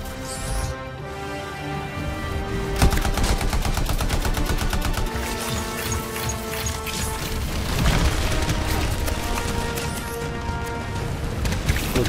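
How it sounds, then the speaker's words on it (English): Heavy gunfire in the Anthem video game rattles in dense rapid automatic bursts, with booming impacts and mechanical clatter mixed into a continuous, loud barrage. "I'm taking heavy fire, Alpha."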